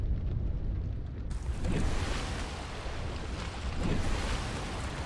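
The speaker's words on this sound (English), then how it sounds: "Yep, it's raining." Steady rain falls in the Subnautica: Below Zero video game, a continuous broadband hiss with low rumble, wind and surf-like washes swelling and easing throughout, no voices over it.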